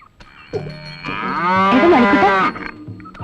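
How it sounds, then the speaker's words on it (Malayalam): A cow lets out one loud, close moo lasting about two seconds, rising and then cutting off, with faint rustling and movement before and after it. "തോമസ് കുട്ടി, ദേ പശുവിനെ ചോട്ടിക്കാൻ ആള് വന്നു."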